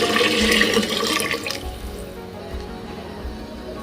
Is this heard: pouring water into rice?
yes